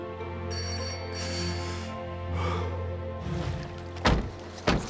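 An emergency phone rings with a sustained electronic bell tone, fairly quiet and steady, followed by a couple of sharp thunks near the end, with no talking.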